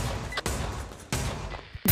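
Gunfire in a video game: a few sharp bursts of shots with broadband noise between them, loud and close, without talking.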